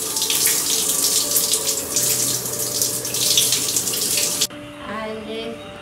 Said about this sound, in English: I take a shower.